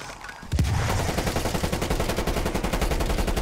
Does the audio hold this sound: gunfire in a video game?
yes